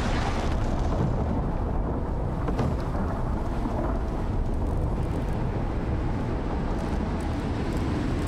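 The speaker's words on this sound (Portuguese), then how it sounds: "A tempestade de raios é a pior que tem." Thunder rolls through a lightning storm in the survival game Icarus, a deep, sustained rumble with crackling bursts over steady rain noise, loud and continuous with no talking.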